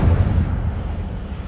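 The Incendio fire spell cast in Hogwarts Legacy, a short deep burst of flame with a heavy low rumble that fades quickly, loud and close.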